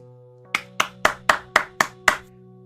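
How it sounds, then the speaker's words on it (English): Seven crisp hand claps at an even, deliberate pace ring out close by over a faint steady hum. "she clapped her hands and looked at me with a smile"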